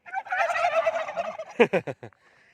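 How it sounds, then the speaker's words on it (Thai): A rare fluffy-feathered chicken on hotel grounds gives a warbling, throaty call, then a quick run of five sharp clucks, close and fairly loud, before falling quiet. "อืมร้องตามเลยกุ๊กกุ๊กกุ๊ก"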